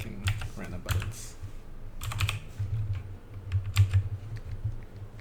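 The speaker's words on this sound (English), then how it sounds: "Just keep clicking random buttons." Computer keyboard buttons being clicked in rapid, irregular bursts of taps and clacks, close and crisp, with pauses between flurries and a low background hum underneath.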